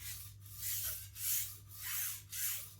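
Knife edge stroked with light pressure across an Empire sharpening plate, a soft rhythmic rasping scrape repeating about four times, each pass swelling and fading, close and alone.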